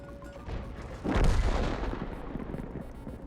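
Artillery HE shell fired in a tank video game: a single loud, deep cannon boom with a rolling low rumble that fades slowly over the next two seconds, alone without talk.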